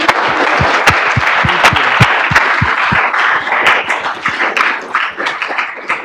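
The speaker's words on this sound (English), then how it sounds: "round of applause." An audience at an entrepreneurship seminar breaks into a round of applause, starting with loud, sharp individual claps that merge into dense clapping and then thin out and fade.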